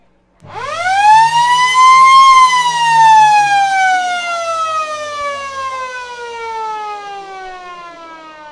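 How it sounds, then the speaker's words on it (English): An Australian football ground siren at a Riverina AFL match between the Lions and Bulldogs sounds one long, loud rising-then-slowly-falling wail that sustains for about eight seconds without talk. "So he'll take the kick after the siren."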